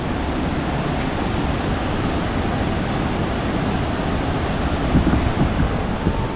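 Flood water roaring at Khlong Lan Waterfall, a dense, continuous rushing wash that stays loud and steady throughout, with wind mixed in and no talking.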